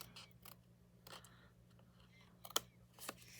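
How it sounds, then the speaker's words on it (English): Scissors trimming a small flag piece on a paper fun-fold card, a few soft, close snips and clicks scattered across a quiet room. "I'm just going to take my scissors and trim this little flag piece"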